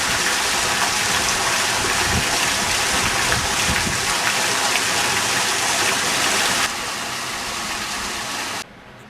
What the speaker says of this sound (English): Ludwig loved fountains, and throughout the gardens they can be found in all sorts of shapes and sizes.